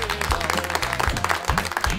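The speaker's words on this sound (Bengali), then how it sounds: "একটা জোরে করতালি হয়ে যাক সোহাগ নুরির" Audience applause for a contestant on a televised folk-song studio round, dense clapping mixed with a loud voice, sustained for a couple of seconds.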